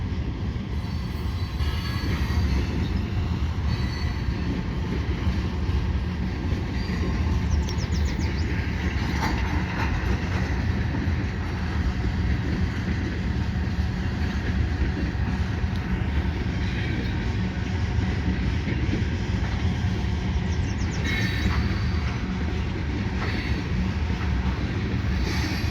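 A CN freight train led by five engines, pulling tank cars westbound over the Lachine Canal Bridge, rumbles past in a continuous loud roll of wheels with faint squeals, close by, with people talking occasionally.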